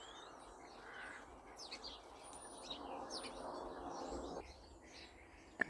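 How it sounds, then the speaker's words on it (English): Birds sing and chirp in a quiet garden, with several faint, distant calls scattered over soft outdoor ambience. "And listen to those birds."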